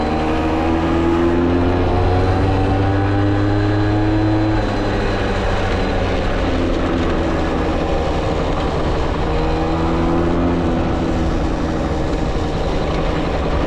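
A 1983 Yamaha CV80 two-stroke moped engine runs steadily throughout, a buzzy droning hum with slight shifts in pitch, loud and close with no talking.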